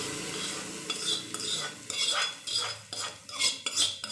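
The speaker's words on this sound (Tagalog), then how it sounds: "Sunod natin gawin, ating imimix dito sa ating mango." Mango pickle and oil are stirred together in a bowl with a utensil, giving repeated wet squelching scrapes and light clinks against the bowl in an uneven rhythm, close and fairly quiet with no talk.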